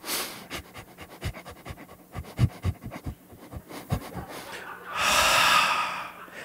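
Rapid panting through the nose in short, even bursts, close up, followed by a long, drawn-out outward breath.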